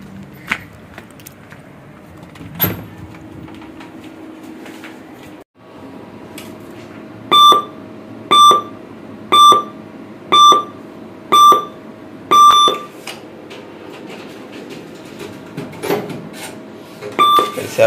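A Canara Bank ATM gives a series of about eight short, evenly spaced electronic beeps, clear and fairly loud, over a low hum of street traffic and room noise.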